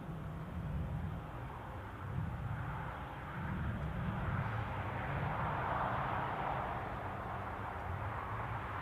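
A steady distant drone at Newcastle airport as an easyJet airliner prepares to push back, low rumbling engine and ground noise holding evenly throughout with a faint broadband hiss, no voices.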